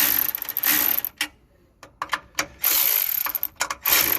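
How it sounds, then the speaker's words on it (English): A hand ratchet tightens the battery hold-down nuts on a Honda Acty minitruck in short bursts of rapid clicking, pausing between strokes, close and crisp. "I'm just gonna tighten them a little each time, going back and forth."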